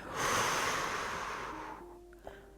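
A single long, breathy exhale during a seated stretching exercise, close and soft. It starts strong and fades gradually over about two seconds, ending with a faint click.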